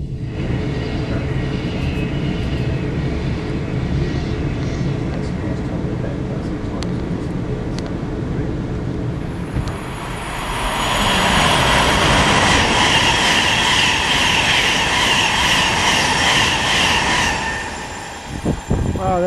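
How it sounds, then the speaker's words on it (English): A Pendolino tilting train sweeps past nearby, its broad rushing roar building at about ten seconds and holding steady before fading out, over an earlier low rail-side rumble. "And a Pendolino passes us by."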